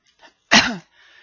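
A single sharp cough, loud and near, with a couple of faint breathy sounds before and after.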